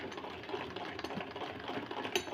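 An old retro sewing machine stitches thread through fabric with a quiet, continuous mechanical whir and rapid needle rattle, close and alone for a couple of seconds.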